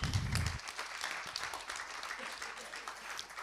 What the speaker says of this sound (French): Chers amis, on peut les applaudir.